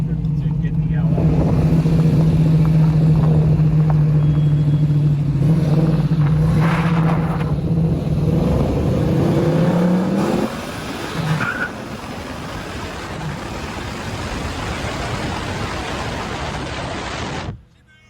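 1970 Chevrolet Camaro with an LS engine swap accelerating hard: a loud, rising engine roar that climbs in pitch, with a shift and continued acceleration, heard from inside the car with talk present.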